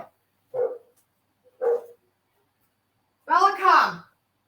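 A dog gives two short barks, then a longer, louder double bark after a pause, each sharp and close against a silent background.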